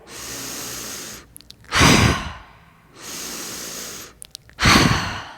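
Deep yoga breathing during a gentle yoga therapy session, two cycles each made of a long, soft airy inhale followed by a louder, forceful sighing exhale, heard close up with no talk.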